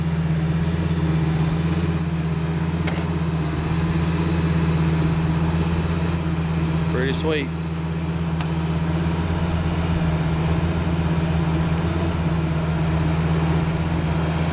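The V10 engine of a 2008 Lamborghini Gallardo Spyder convertible idles with a steady low hum throughout, under a brief spoken remark.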